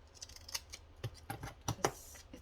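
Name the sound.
hairdresser scissors cutting paper scraps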